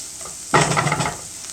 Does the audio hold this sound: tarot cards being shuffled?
no